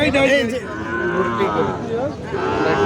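At the Ambari cattle market where Sahiwal bulls are traded, a cow lets out one long, loud, drawn-out moo close by, with voices faintly audible behind it.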